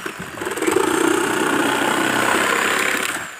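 Sawzall reciprocating saw fitted with a coarse tree-cutting blade tearing through a railing during demolition, a loud, close, sustained buzzing roar that swells and fades slightly, with no talking.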